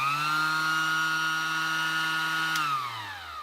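A Ryobi P411 sander, just repaired, runs with a steady, loud motor whine on its own, then spins down with a falling pitch near the end.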